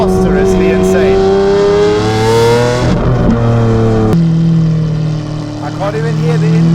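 A straight-piped Lamborghini Aventador S Roadster in South Africa revs hard and loud, its harmonic exhaust note rising and falling over several seconds, with brief shifts and a blip partway through.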